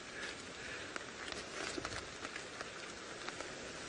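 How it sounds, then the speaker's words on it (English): Light rain patters steadily on surfaces around an open safari vehicle in the African bush, a soft continuous hiss with scattered nearby drops and no voices. "It's not very, very hard rain, but it's good to be prepared in case it torrentially downpours."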